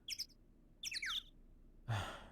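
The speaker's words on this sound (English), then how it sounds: "This bird sound that they put in here is just like so weirdly distracting to me and not good." Quick electronic bird chirps come in two short trills, a game sound effect from Phoenix Wright: Ace Attorney – Trials and Tribulations, followed by a soft breathy exhale.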